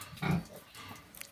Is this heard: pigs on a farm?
yes